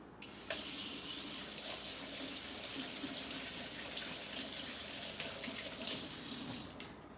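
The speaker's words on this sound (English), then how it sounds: "now what I'm gonna do is I'm gonna rinse my hands off." Hands rinsed under a running kitchen tap, a steady close hiss of flowing water splashing into a sink with small shifts in the stream, continuous for several seconds with no talk.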